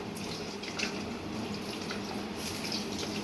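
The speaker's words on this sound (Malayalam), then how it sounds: "ഒന്നാം പാല് അത് ഇതിനകത്തോട്ട് ഒഴിക്കുക" First-press coconut milk poured into a pot, heard as a steady close liquid stream with faint splashing, alone without talk.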